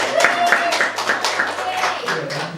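Audience clapping breaks out after a remark about becoming a soldier, with a series of distinct claps spread through the moment while voices carry on over it.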